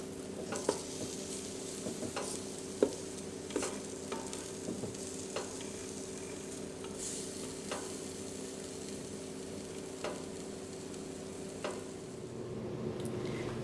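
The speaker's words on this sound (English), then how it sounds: "Carefully place the ripe plantains in basket and arrange them with tongues." Ripe plantains are laid into a Ninja Deluxe Foodi air fryer basket with tongs, giving light clacks and taps spread irregularly over a steady background hum, close and without talk.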